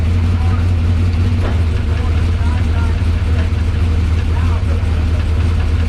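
A 2500hp G-body drag race car sits warming up with its engine running, a loud, steady low rumble and rattling idle that continues evenly throughout without pauses.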